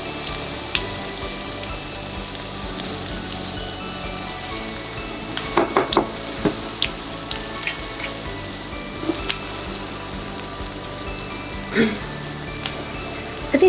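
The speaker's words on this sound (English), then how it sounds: "we're going to saute all of this together" Vegetables sautéing in a pan for kadai paneer, a steady sizzle close by with occasional clinks and scrapes of stirring, continuous and moderately loud.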